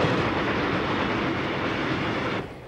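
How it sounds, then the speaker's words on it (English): A Japanese commuter train, crowded with riders, rumbles steadily with loud broadband noise and rattling wheels, then drops off slightly just before the end. "Do you have to ride on this kind of train every day?"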